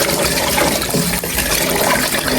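Rice being washed in water ahead of making biryani, a steady broadband swishing and splashing that runs continuously and fairly loud through the whole stretch, with no talk.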